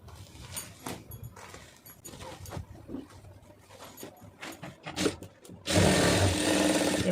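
A sewing machine stitches a net sleeve, running in uneven bursts with clattering motor noise, then a sustained louder whir near the end.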